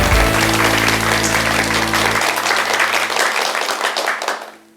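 Lecture audience at a televised special talk applauds in a loud, dense burst of clapping over sustained background tones, then the clapping fades out toward the end.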